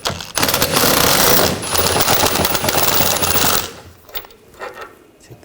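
An 18mm socket on a rattling impact tool drives out a suspension bolt on a 2000-2006 BMW X5 during rear lower ball joint work, a loud close continuous burst for about three seconds, then quieter intermittent clicks and handling noise.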